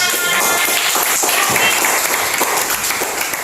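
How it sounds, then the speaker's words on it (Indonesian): A classroom of students claps together in a teaching session, a dense, steady burst of applause close by that runs for a few seconds and tapers slightly at the end. "Tepuk tangan."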